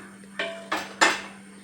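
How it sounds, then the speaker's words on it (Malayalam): A metal cooking pan is picked up and set down, giving three close clanks that strike louder in turn over a quiet kitchen hum, with no talk. "അതിനു വേണ്ടി നമുക്ക് പാൻ എടുത്ത് വെക്കാം"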